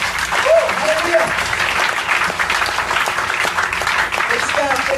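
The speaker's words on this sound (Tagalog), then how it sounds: "Saan ka po malakas na palakpak kay Lord?" Enthusiastic applause from a congregation during a church service, with clapping running throughout and excited shouts and cheers over it.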